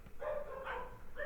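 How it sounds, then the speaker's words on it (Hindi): Faint dogs bark and yelp in the distance in a short burst of a few cries, heard under a low background hum. "उधर कुत्ते भौंक रहे हैं"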